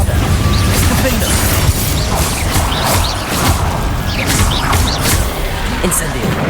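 Explosive combat spells cast in rapid succession in Hogwarts Legacy, a dense run of booming blasts and crashes with sparkling magical effects, loud and continuous, mixed with a character shouting spell names.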